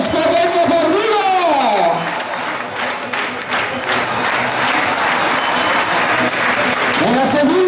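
A crowd applauds just before the start of a street running race in Vigo's Barrio do Calvario, steady loud clapping and cheering throughout, with an announcer's amplified voice talking over it.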